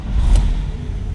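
A 1949 Chevrolet Styleline Deluxe Sport Coupe engine fires up from a cold start with a short, low rumble that swells and then settles.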